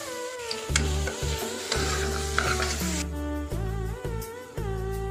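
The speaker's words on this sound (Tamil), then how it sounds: "தக்காளி நல்லா வதங்கிடுச்சு," Tomatoes sauté in a pan for homemade vegetable biryani, sizzling steadily as a spoon stirs and scrapes against the pan, close and continuous.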